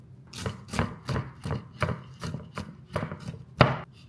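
A knife chops vegetables on a cutting board in an even rhythm of about ten crisp, close thuds over a few seconds, with no speech.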